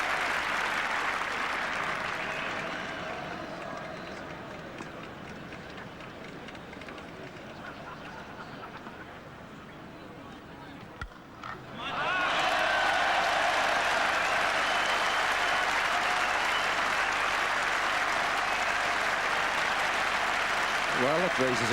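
Spectators at Trent Bridge during the fifth Test between England and Australia in August 1989 raise a cheer. Murmuring crowd noise swells suddenly into loud, sustained cheering and applause, with commentary voices running underneath.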